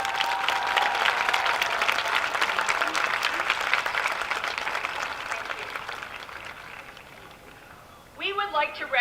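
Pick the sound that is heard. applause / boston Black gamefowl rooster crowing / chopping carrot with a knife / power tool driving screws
applause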